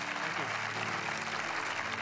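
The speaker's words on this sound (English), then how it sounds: "How about a round of applause for our guest, Kelly Slater?" Studio audience applause at the close of an interview with surfer Kelly Slater: a dense, even wash of clapping that holds steady for a couple of seconds, with voices faintly underneath.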